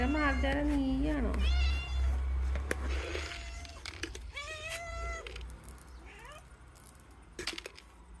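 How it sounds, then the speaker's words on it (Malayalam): A cat meows several times close by, the calls long and wavering with shorter cries later, mixed with a person talking and some low background rumble. "എൻ്റെ മാർജാന നീയാണോ?"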